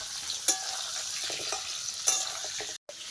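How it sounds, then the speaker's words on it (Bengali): Potato pieces frying in a pan, a continuous sizzle close to the mic with a few sharp stirring scrapes, and no one speaking. "এইদিকে কিন্তু আমি আলুটাও ভাজতে শুরু করেছি"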